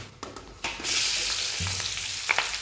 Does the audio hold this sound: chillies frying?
yes